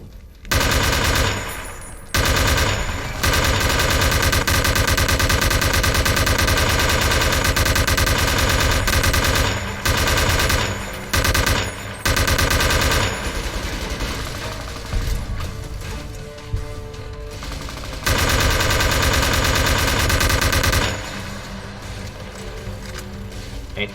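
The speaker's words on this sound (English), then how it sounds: "Now this is a fucking machine gun." A machine gun in Fallout: New Vegas fires long, loud, rapid bursts separated by brief pauses, the rattling mechanical chatter filling nearly the whole stretch.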